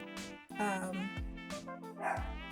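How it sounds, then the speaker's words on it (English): A dog barks several times in quick, sharp bursts, close and fairly loud, with short pauses between barks. "I don't know why he's barking, y'all."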